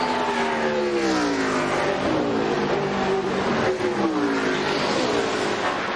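NASCAR race cars roar on the final lap of the Brickyard 400, their engines rising and falling in overlapping revving sweeps as they pass, steady and moderately loud from a distance.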